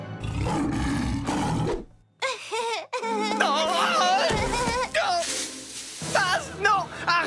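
A cartoon lion roars loudly in a drawn-out, throaty blast, then growls and snarls in shorter bursts, mixed with animated voices talking and crying around it.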